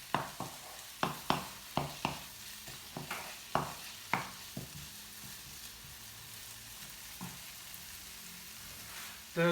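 Onions sizzling in leftover prawn oil in a single pan for Alfredo chicken and prawn, a steady fry broken by a run of sharp stirring scrapes and clatters, with no talking.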